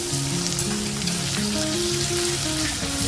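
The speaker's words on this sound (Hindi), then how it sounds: "एक प्याज का कटिंग किया हुआ प्याज हम इसमें फ्राई करेंगे" Chopped onions fry in a pan, making a dense, loud, steady sizzle and crackle, like rain on a surface, that runs unbroken throughout. Faint tonal squeaks drift underneath, and no one speaks.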